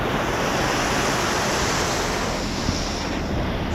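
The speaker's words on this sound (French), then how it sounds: "Regardez-moi ce courant d'eau." A strong water current rushes steadily during a typhoon in Baguio, a loud, continuous roar mixed with wind buffeting the microphone, with no voices.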